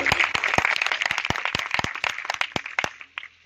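Applause from the audience at a Hindi-Urdu poetry gathering (kavi sammelan/mushaira), a dense burst of many hands clapping close and loud for several seconds before thinning out.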